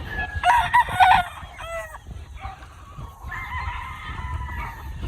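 Farm chickens with a nearby rooster crowing in bursts, a high whinny-like call among them, and steady clucking and murmuring from the flock continuing afterward.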